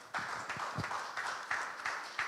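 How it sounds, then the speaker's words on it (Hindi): Applause from a congregation during a Sunday Hindi church service, a brief round of clapping of moderate loudness spread over about two seconds, with a few stronger bursts standing out. "जोरदार तालियों के द्वारा हम उनको धन्यवाद दें।"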